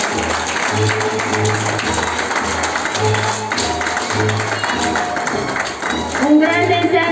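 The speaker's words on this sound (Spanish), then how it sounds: "Aplauso para ellos." A crowd at a children's graduation ceremony in a rural village in 2021 applauds, with the clapping mixed under voices and a repeating low tonal pattern throughout.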